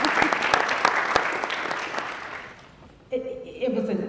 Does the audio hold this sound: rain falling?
no